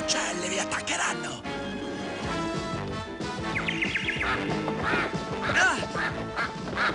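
Cartoon ducks quack repeatedly and loudly during an attack, mixed with background music and a voice speaking over the commotion.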